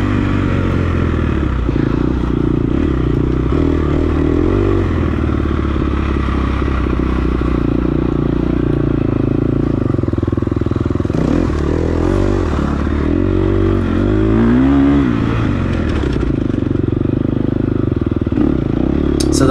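A fuel-injected dirt bike churns through mud on a muddy sprint enduro course. The engine is loud, close and continuous, with the throttle rising and falling over clattering and scraping.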